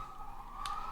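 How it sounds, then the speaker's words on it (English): Emergency vehicle sirens wail steadily outside, a continuous moderately faint tone heard from a distance through the room. "I'm also sorry about the sirens in the background."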